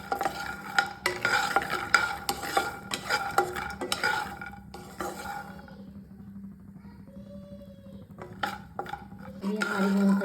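Peanuts dry-roasting in a pan give off scattered crackles and pops amid the scraping of a stirring spoon, loud and close, with a brief quieter pause before the stirring resumes.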